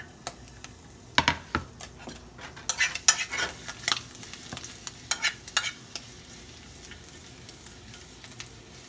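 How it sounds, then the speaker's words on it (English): Garlic sizzles and fries in a pan for home-cooked fried rice, with a utensil stirring and scraping in bursts of clatter over a steady hiss. "just cooking enough so you can smell it. No need to burn the garlic."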